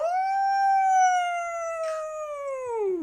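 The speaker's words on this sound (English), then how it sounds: "just wanting to join into the howl of this pack" A lone drawn-out canine howl, near and loud, holding a long steady pitch with rich overtones for about three seconds before sliding down at the end, as an animal joins a wolf pack's howling in the mountains.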